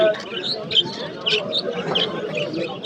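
Many small caged birds chirp and chatter in short bright bursts at a bird market in Izmir, overlapping with people talking nearby in a busy setting.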